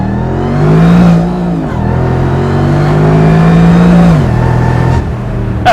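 A Mercedes engine, in an SL65 or SLR, accelerates from a stop with loud, close revving that climbs through two gear pulls, each ending in a brief drop as the next gear catches.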